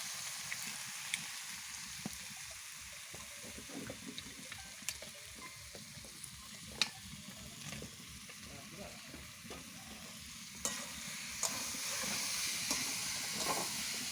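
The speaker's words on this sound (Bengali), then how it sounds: "আলুটা দিয়ে কষিয়ে নেবে।" Potatoes for aloo dum sautéing in a pan, with a steady close sizzle and hiss broken by repeated scraping stirs, and no talking.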